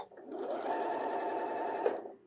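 A Janome sewing machine stitches with the A foot in one steady, close run of about two seconds, with no talking.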